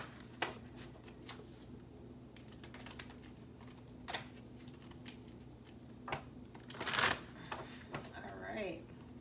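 Tarot cards being shuffled and pulled from a deck, with soft papery riffles and scattered light clicks and snaps, one sharper flurry near the end, close and quiet under faint background talk.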